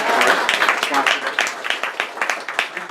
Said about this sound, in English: One more round of applause for the valet parking.